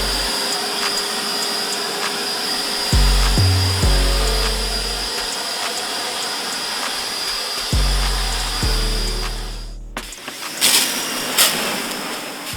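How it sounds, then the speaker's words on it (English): A leaf blower blasts loose leaves and dirt off a car engine bay, a loud steady whine with short bursts and pauses in the airflow and a change in pitch near the end. "I take a leaf blower and blow away all the loose leaf or any dirt that is on the engine"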